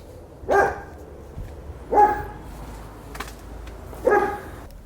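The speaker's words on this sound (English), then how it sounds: "I don't know why that dog's barking at me." A dog barks three times, single sharp barks spaced a second or two apart, heard at a moderate distance outdoors with quiet background between them.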